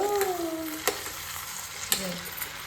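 Food fried in a pan with spices and salt while being stirred: a constant close sizzle under two sharp spoon scrapes and taps, with no talking.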